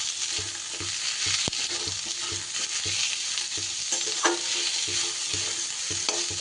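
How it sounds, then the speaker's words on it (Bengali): Onions and potatoes fry over low gas in a pan, a loud continuous sizzle broken by regular scraping and clinking strokes of a spatula as they are stirred. "এবার পেঁয়াজটাকেও নাড়িয়ে চাড়িয়ে এইভাবে ভেজে নিতে হবে।"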